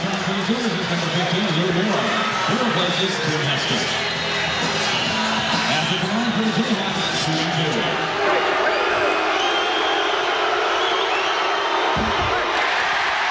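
A packed college basketball arena crowd roars and cheers at a 1997 Kansas versus Oklahoma game, loud and sustained before fading, with commentators talking over it.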